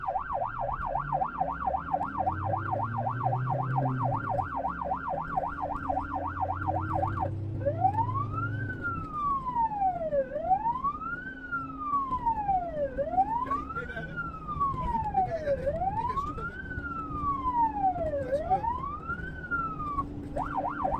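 Ambulance siren in Cape Town responding to a taxi versus pedestrian accident, first a fast warbling yelp and then a slower rising and falling wail, loud and close over traffic rumble.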